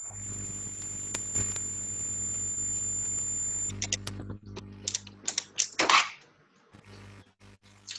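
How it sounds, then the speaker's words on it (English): Rapid, irregular keyboard tapping comes through an online meeting microphone over a steady electronic hum and a high whine, with clicks clustering toward the end. "I hear someone typing."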